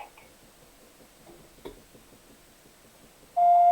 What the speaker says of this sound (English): After tone, please record your message.